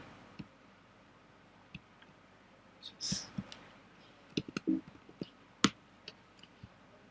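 Sparse, quiet mouse clicks, single and in short clusters, come while code is pasted and submitted on an online judge site, with faint breathy background and a whisper-like murmur.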